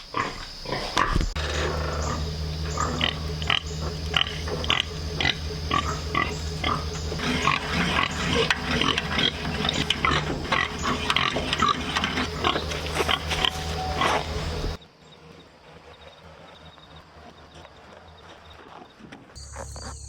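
Pigs grunt and squeal repeatedly while being loaded onto a trailer, with dense, close, overlapping animal noises and clattering for about fifteen seconds before the sound drops to a quieter background.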